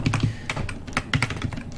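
Rapid, close clatter of computer keyboard keys being typed in bursts, with crisp individual key clicks and short pauses between flurries.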